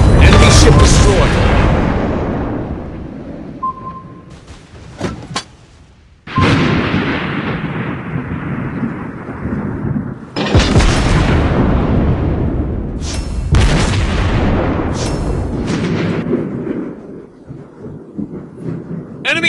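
Explosions from a World of Warships Blitz naval battle with the battleship Texas as an enemy ship is destroyed: several loud, deep booms with rumbling decay, sharp onsets recurring every few seconds, layered over continuous game sound.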